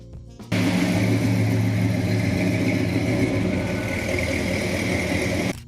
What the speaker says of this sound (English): 1967, Pontiac GTO.